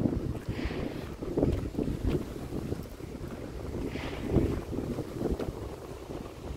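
Steady wind gusting across an open bayside park on San Mateo bay in Northern California, a broad low rushing with buffeting microphone noise and a couple of louder gusts, no voices.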